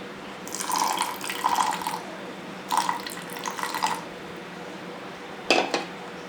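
Water is poured into appam batter in a wet grinder, with splashing and clinking of metal kitchenware in three short bursts, close and moderately loud.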